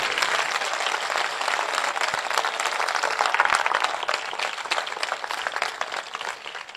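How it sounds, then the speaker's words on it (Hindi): Church congregation applauding together during a sermon, a sustained, fairly loud wash of clapping from many hands that holds steady and tapers slightly near the end. "आइए उसके लिए एक अच्छी ताली बजाएंगे हम सब मिलके"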